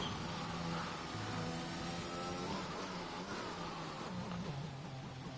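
A racing car in a racing video game runs at partial throttle in fourth gear, its engine note droning steadily and rising and falling slightly, moderately loud and without speech.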